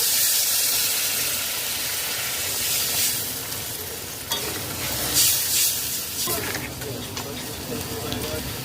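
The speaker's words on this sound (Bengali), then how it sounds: "ঝোল ফুটে উঠেছে" Egg curry gravy boiling in a pot, a dense steady hiss and bubbling that wavers and swells, with a few faint clinks and scrapes near the pot.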